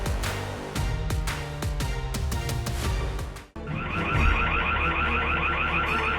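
A security alarm bursts into a rapid, loud warbling wail in a garden, cutting in abruptly after a stretch of other busy sound and cycling steadily to the end.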